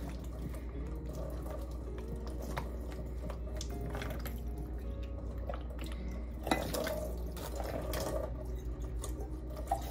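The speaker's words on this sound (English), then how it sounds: "I have a water bottle to rinse out afterwards" Water poured from a bottle trickles and splashes softly into a basin, rinsing off soap, with scattered drips and light clinks, steady and close.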